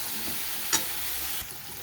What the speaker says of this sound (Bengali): মাঝে মাঝে নেড়ে চেড়ে কষিয়ে নেব ফুলকপি আলুর সাথে।